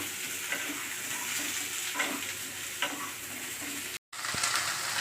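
Sliced potatoes sizzle in oil in a frying pan, a continuous hiss with occasional stirring knocks, briefly cut off near the end before the frying noise returns.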